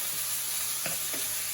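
Thin shaved beef stir-frying in a hot pan, a soft continuous sizzle with a couple of quick scraping stirs, close and fairly quiet.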